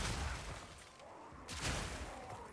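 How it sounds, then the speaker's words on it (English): Herald explosions in Path of Exile 2 during map clearing, a dense, noisy wash of crackling blasts in two bursts separated by a brief lull, steady and fairly loud throughout. "You got the Herald explosions as well"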